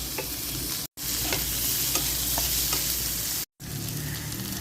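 Garlic sizzles with fish in a hot pan, a continuous dense frying hiss with light stirring ticks, cut by two brief silent gaps.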